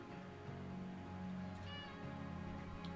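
A cat meows, a drawn-out mewing call heard fairly close, with a faint background hum and no talking.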